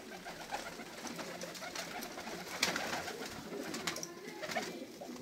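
Pigeons coo softly outdoors in snowy Ankara, several birds giving low repeated coos and a few brighter calls over a quiet background, no speech.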